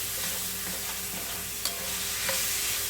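Steady sizzling and crackling of tater tot casserole ingredients frying in a hot cast iron pan, with occasional light clinks of a utensil.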